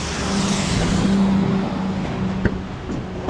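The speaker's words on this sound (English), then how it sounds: "Why is there a car pulling up here?" A car pulls up close by during a scrap-metal run, its engine a steady, fairly loud hum that swells and then settles, with a brief knock near the end.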